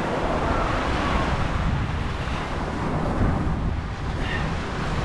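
Mediterranean Sea waves wash onto a beach in Turkey in a constant broad surf roar, with heavy wind buffeting the microphone throughout.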